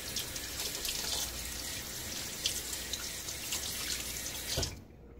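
Tap water runs steadily as shaving lather from a hard lavender soap is rinsed off at a sink, a continuous close splashing hiss that stops abruptly near the end.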